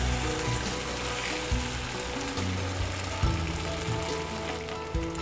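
Rice and spices for chicken biryani frying in a pot, a steady close sizzle and crackle with occasional stirring scrapes, no talking.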